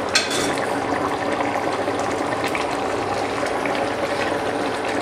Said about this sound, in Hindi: तो अब हम इस ग्रेवी को यूं ही सुखाएंगे कढ़ाई में भून भून करके